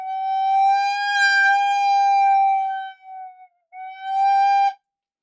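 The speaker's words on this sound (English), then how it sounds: "If I blow more and less, the pitch goes up and down." A single recorder note is blown harder and softer, its pitch bending up and down in a long sustained tone, then breaking off briefly before a shorter note, clear and alone.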